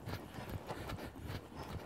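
Hooves of a ridden horse moving forward through a bend during schooling work, giving a steady rhythmic thudding of footfalls at moderate level, close by, with no talking.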